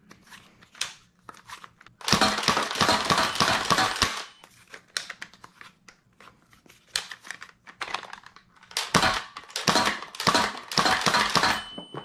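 Adventure Force Desperado double-action toy blaster fired repeatedly, with sharp plastic clicks and snaps close up, a dense burst of rapid mechanical clatter, then scattered clicks and a second volley of loud snaps.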